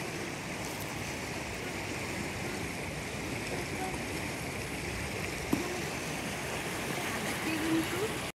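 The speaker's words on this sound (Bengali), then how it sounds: "এতক্ষণ যে আওয়াজটা শুনতে পাচ্ছিলেন ওটা কিন্তু ওয়াটারফলের আওয়াজ ছিল।" Steady rushing roar of a waterfall in snowy mountain country, a broad continuous wash of falling water holding level from start to finish with no voices over it.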